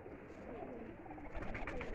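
Pigeon cooing from a bird of a long-established rooftop racing lineage, low and soft throughout, overlapping with other pigeon sounds and faint background noise, with a slightly fuller burst near the end.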